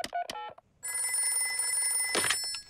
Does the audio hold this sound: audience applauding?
no